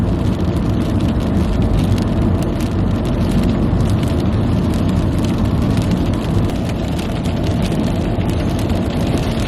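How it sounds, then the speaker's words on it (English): Rain drumming on a moving car, a dense, even wash of patter over a low road and engine rumble, steady and loud throughout with no talking. "Do you hear this rain right now?"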